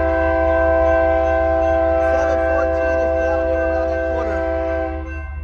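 A BNSF manifest freight train passes near the Calwa diamond crossing in Fresno, California, its loud sustained multi-tone horn blaring over a heavy rumble for several seconds before fading slightly.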